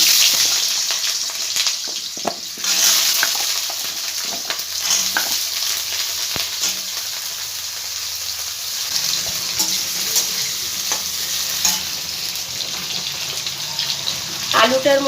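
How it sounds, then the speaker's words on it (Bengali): Potatoes frying in hot oil in a home kitchen: a bright, hissing sizzle runs throughout, with occasional clatters and scraping from stirring in the pan. "এই তেলটার মধ্যে আমি আলুগুলো আগে ভেজে নেব।"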